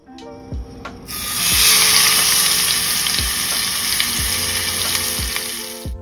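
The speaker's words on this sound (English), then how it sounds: "Did you hear that sizzle?" Steak sizzles in a hot pan with a loud, continuous hiss that swells after a second and holds steady, with a few faint knocks in the background and no talk.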